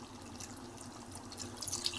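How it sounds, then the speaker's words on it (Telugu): Quiet running water splashing and trickling into a pot of mutton paya curry, brief and close, with faint drips near the end. "ఇప్పుడు కొద్దిగా నీళ్ళు వేసుకుందాం"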